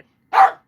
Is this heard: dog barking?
yes